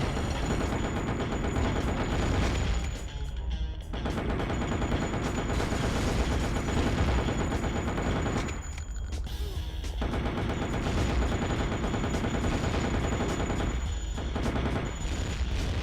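Sustained assault rifle fire from the game Underworld: The Eternal War, loud and continuous bursts with a few short pauses, layered over game music.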